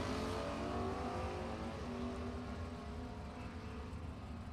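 A 1968 Ford Mustang and a 1975 Chevrolet Camaro race on a drag strip, their engines producing a continuous, fairly distant roar that rises and then gradually recedes.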